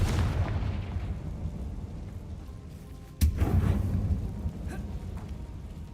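A Confringo explosive spell from Hogwarts Legacy blasts once in a sharp, booming burst partway through, set against steady game ambience and rumble, with no voices.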